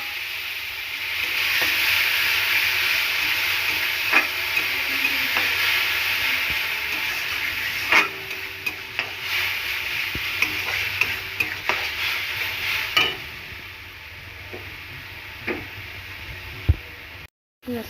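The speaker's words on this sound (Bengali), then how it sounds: "এবারে দিয়ে দেবো পেঁয়াজ, রসুন, কাঁচা লঙ্কা আর টমেটোর পেস্ট।" Onion, garlic, green chili and tomato paste frying in a pan, with steady sizzling and repeated stirring scrapes and knocks of a spoon, close and continuous, with a faint voice in the background.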